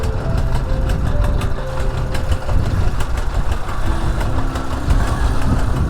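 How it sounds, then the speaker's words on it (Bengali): A motorcycle engine idles and revs with a steady low rumble beside a river as the bike is taken off a ferry boat in a Khulna village, loud and close. "খেয়ার থেকে বাইক তুলে কীভাবে দেখেন"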